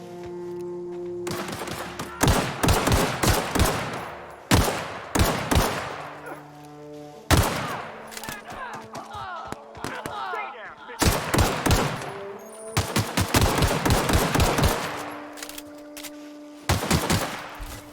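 Rapid bursts of gunfire in The Outer Worlds, loud and close, coming in repeated volleys of sharp shots with brief pauses between them and occasional thuds.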